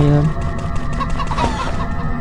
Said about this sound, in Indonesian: Ayam, makan ayam.